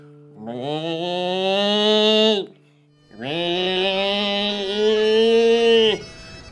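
Two long, drawn-out mooing calls from children imitating cows, each lasting a couple of seconds with a brief pause between.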